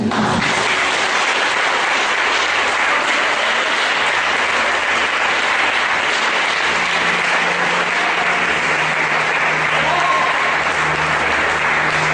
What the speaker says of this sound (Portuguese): Vamos aplaudir um pouco o Senhor.